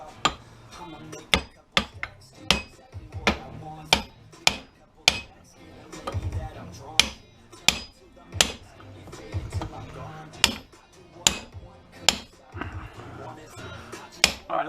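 A heavy sledgehammer strikes microwave oven parts being scrapped: sharp metallic whacks land about once a second, loud and close, with a person talking underneath.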